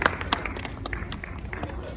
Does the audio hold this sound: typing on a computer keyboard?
no